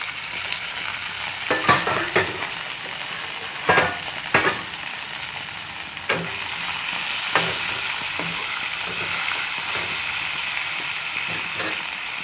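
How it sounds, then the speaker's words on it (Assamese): Onions and potatoes frying in hot oil, a continuous loud hiss with scattered sharp spatters and a few scraping stirs in the early part. "বহুত ভয় লাগে এই পিঁয়াজে ফুটে"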